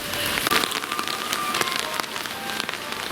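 Rain falling steadily on a hard surface, a dense patter with occasional louder drips, fairly close and continuous throughout.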